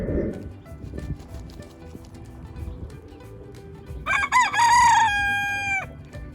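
Hens cluck and shuffle quietly, then a rooster lets out one loud, close crow near the end, its long final note trailing off.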